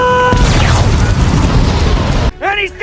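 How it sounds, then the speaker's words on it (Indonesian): A suicide bomb detonates in one heavy, close explosion whose rumbling blast fills most of the moment before cutting off, followed by a brief voice and clatter. "tiba-tiba sebuah bom bunuh diri meledak"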